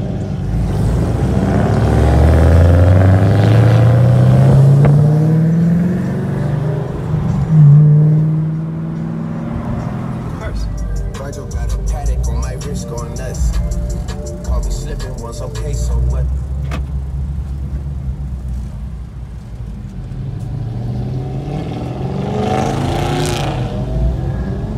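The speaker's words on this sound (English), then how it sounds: "So we're pulling up at the car meet in Bolton, Ontario" Car engines rumble and rev at a car enthusiast meet in Bolton, Ontario, where a Mustang and other built cars gather; a loud, steady low drone with rising revs early on, and people talk under the engine noise.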